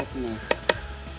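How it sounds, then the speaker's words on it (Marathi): Onion frying in a pan over a wood-fired stove makes a soft sizzle, and two sharp scraping knocks of a spoon stirring land midway through the short burst. "कांदा जरा छान लालसर होऊन द्यायचा आहे"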